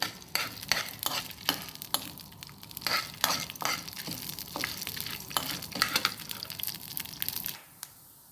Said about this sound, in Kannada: ಕರಿಬೇವು ಹಾಕಿ 1 ಸ್ಪೂನ್ ಎಣ್ಣೆ ಹಾಕಿ ಹುರ್ಕೊಳ್ತಾ ಇದ್ದೀನಿ